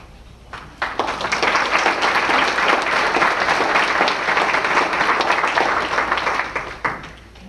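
An audience at a 2015 NABOR awards event breaks into sustained applause, many hands clapping loudly and evenly for several seconds before it fades out.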